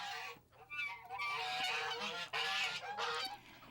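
Ducks and chickens roaming a village street by a pig farm near Ussuriysk, several overlapping honking quacks calling in quick, uneven bursts, loud and near, with no voices.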